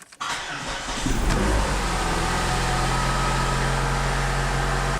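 A daily-driver cruiser car, freshly repaired with welds, starts and rolls down the road on a cold day, its engine rising to a steady loud hum with a low drone throughout.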